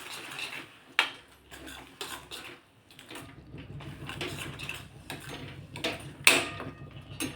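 Sweet amla chutney being stirred with garam masala, scattered spoon clinks and scraping against a bowl with sharp taps at irregular intervals, close and fairly quiet.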